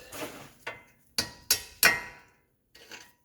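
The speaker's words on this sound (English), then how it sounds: "Now we'll get a hammer and just tap the bolt out." A hammer taps a bolt out of the lower control arm on a 2013 Fiat 500 Turbo in a handful of sharp, ringing strikes, irregularly spaced, with a short pause before two lighter final taps.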